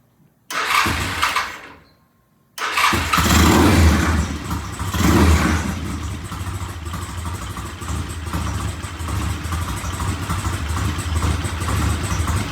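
Norton or Triumph motorcycle engine cranks briefly, catches after a short pause and settles into a steady, loud idle at about 800 rpm, running close by with no talk over it.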